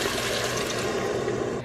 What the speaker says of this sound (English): And now I am adding in 2 cups of water